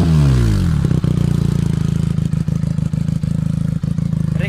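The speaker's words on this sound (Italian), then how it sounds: "adesso vi farò vedere lo scarico senza DB Killer" Benelli BN 302 motorcycle with a LeoVince exhaust and its dB killer removed, roaring loud and close as it starts and settles into a deep, throbbing, uneven idle with sharp exhaust pulses.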